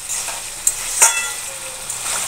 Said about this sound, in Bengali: এই যে ভাজা পনিরগুলো সব দিয়ে দিলাম